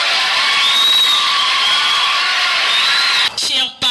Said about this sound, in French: On applaudit pour Madame la directrice.